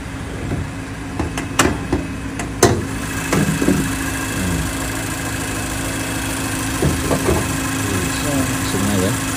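A Mazda engine idles with a smooth, steady hum in a used-car showroom, Mazda 2 1.5 GT or CX-3 2.0 Touring; a few knocks and handling sounds come early, then the idle runs alone, even and continuous.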